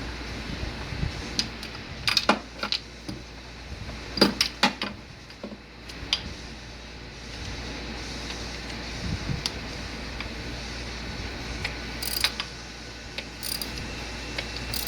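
A hand ratchet works the rear valve cover bolts on a four-cylinder turbo Camaro engine, with quick bursts of clicking and metallic taps scattered over a low steady hum in a quiet shop.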